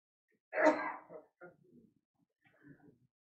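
A single loud sneeze bursts out in a quiet room, followed by a few softer trailing breathy sounds and then silence.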